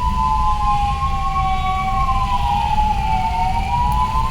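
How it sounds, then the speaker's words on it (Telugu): An ambulance siren wails steadily in Bangalore traffic, its tone sweeping slowly up and down, loud and close over a constant low rumble of engines and road noise. "పాపం అంబులెన్స్ చూస్తూ ఉంటే అది అక్కడే ఉంది అసలు మూవ్ అవ్వట్లేదు"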